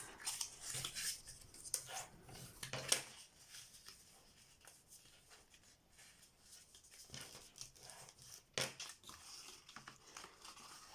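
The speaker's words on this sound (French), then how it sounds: "on plie tous nos plis" Paper folded and creased by hand for a handmade happy-mail card pocket, soft crinkling and rustling with scattered sharper crackles, close and quiet, without talk.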